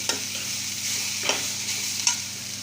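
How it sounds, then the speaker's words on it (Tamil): Paneer stirred in a pan over low heat with onions and green chillies, a soft continuous sizzle broken by three sharp scrapes of a spoon against the pan, close and fairly quiet. "பன்னீரை சேர்த்துட்டு நம்ம நல்லா கிண்டி விட்டுக்கலாம். லோ ஃபயரில் வச்சு."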